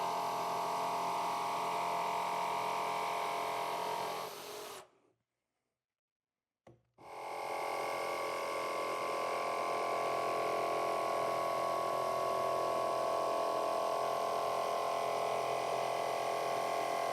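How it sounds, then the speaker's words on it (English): A jigsaw with its oscillating action switched off cuts through laminate on a drill press table, a steady, loud motor whine and blade buzz that stops briefly partway, then resumes and runs continuously. "if you have an oscillating setting on your jigsaw, you want to turn that off"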